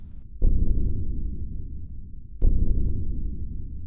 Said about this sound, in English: upon finding the first page, a heartbeat noise starts